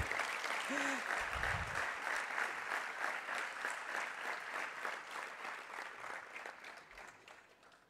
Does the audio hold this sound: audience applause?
yes